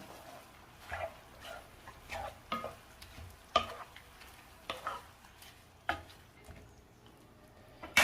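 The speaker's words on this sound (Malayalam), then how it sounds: "ഒന്ന് മിക്സ് ചെയ്യാം." Chicken biryani masala with added water being stirred in a pot, a spoon scraping and clinking in irregular strokes every second or so against a faint background of cooking noise, no one talking.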